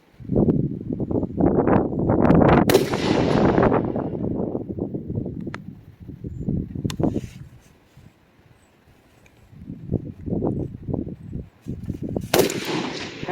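Rifle shots from a Geissele Super Duty, a series of loud close reports with echoing tails booming outdoors, then a pause before more shots follow.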